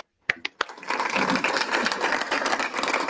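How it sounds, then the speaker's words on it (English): A few sharp claps break the silence, then a crowd of hands joins in a dense, sustained burst of applause that holds steady to the end. "Round of applause"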